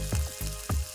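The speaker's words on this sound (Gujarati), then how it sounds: "તેલ પણ એકદમ અલગ થઈ રહ્યું છે અને મસાલા પણ એકદમ સંતળાઈ ગયા છે" Spices sizzle in hot oil for a dahi tadka, with soft crackling bursts and a few stirring scrapes in a short, quiet, close stretch.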